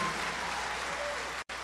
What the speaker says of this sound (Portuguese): Os aplausos para Geraldo Amâncio e Moacir Laurentino.